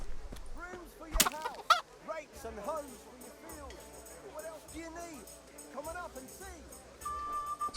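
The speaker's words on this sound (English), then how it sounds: "I just punched a chicken to death" Chickens in Kingdom Come: Deliverance squawk and cluck in frantic bursts, joined by two sharp punch-like impacts near the start, mixed with a person's voice and fading flurries of clucking.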